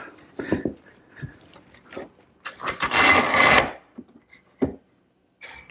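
Wooden table parts being slipped together and clamped up after glue goes on the tenons and into the mortises, giving a scattered run of knocks, taps and scrapes, with a longer rasping, rubbing burst partway through, close by.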